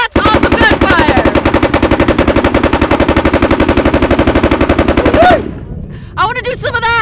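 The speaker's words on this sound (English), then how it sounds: "That's awesome gunfire!" Sustained automatic fire from a KRISS 9mm prototype at a SHOT Show range, a rapid, steady stream of loud close shots lasting about five seconds before cutting off, followed by faint ringing echoes and brief noises.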